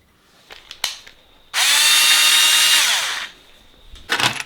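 A small electric drill boring a small hole into a wall whirs up, runs at a steady high pitch for about two seconds, then winds down, with light clicks and handling noise around it.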